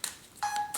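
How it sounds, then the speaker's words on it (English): A mobile phone gives a short electronic alert, a brief chirp followed by a sustained tone and another chirp, close and fairly clear in a quiet room. "Oops, sorry, that was just my phone."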